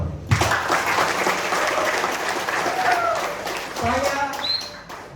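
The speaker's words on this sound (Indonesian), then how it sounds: "Tepuk tangan dong." Applause from an audience at a product launch in Karawang for a new product, a crowd clapping loudly and steadily for several seconds before tapering off, with a voice speaking near the end.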